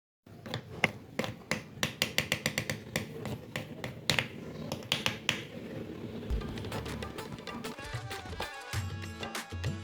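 Crisp sesame til chikki made with sugar snapping apart, a rapid series of sharp, brittle cracks close up and quiet, settling into lighter crackling toward the end.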